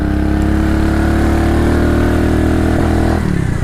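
A small motorcycle engine drones steadily up close, a constant buzzing idle that shifts slightly near the end.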